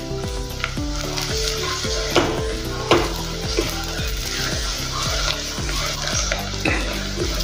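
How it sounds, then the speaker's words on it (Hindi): Finely chopped ginger sizzling and frying steadily in oil in a pan, with stirring strokes and a few sharp clinks of a utensil against the pan, no voices. "अदरक डालेंगे हम अच्छे से बारीक कटा हुआ, वो भी अच्छे से मिला लेंगे और थोड़ा सा तेल में भूनने देंगे।"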